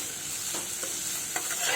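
Onion, chilies and garlic sautéing in a pan, giving a steady close hiss of frying with a few soft stirring knocks scattered through it.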